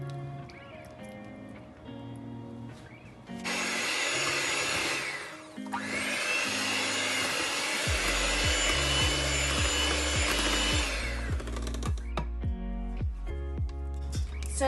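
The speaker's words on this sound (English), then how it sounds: "And now we're gonna blend this all together." An electric mixer blending cheesecake batter with vanilla whirs loudly and steadily for several seconds with a brief dip, then quieter handling and a low hum follow, with no voices.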